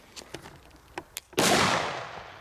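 Several small pops and crackles lead into one loud, close D-Böller firecracker blast whose broad roar fades over the following second.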